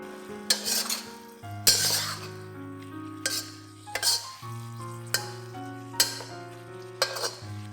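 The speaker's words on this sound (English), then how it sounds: "Cover and cook it for about 5 to 8 minutes till the vegetables are tender" Vegetables with dried shrimps cooking in a pan, a soft steady sizzle broken by repeated clinks and scrapes of a utensil stirring against the metal, with no talking.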